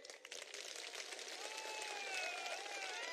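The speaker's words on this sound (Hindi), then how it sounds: "प्रशांत के लिए सभी लोग ताली बजाएं।" A crowd at a political rally claps in a dense, continuous wash of applause that holds steady and swells slightly, sounding distant and fairly faint, with faint whistles over the top.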